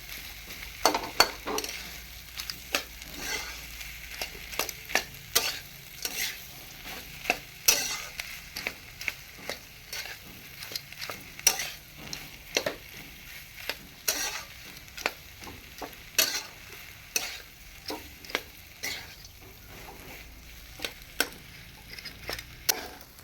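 Potato filling stirred and fried in a pan: repeated scraping strokes of a spoon in a fairly even rhythm over a steady low sizzle, heard close up with no talking.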